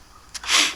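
A single sharp sneeze, blamed on air conditioning, bursts close to the microphone after a brief intake of breath, loud and breathy with no talk.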